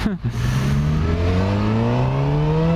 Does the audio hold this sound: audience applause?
no